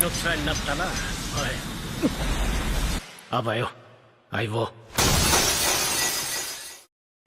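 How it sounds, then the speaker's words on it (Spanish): A talking enchanted sword's blade cracks and bursts apart into several pieces, a sharp bright shattering crash like breaking glass that sweeps through and trails off, after an earlier stretch where a voice narrates. "Delfinger explotó en varios pedazos."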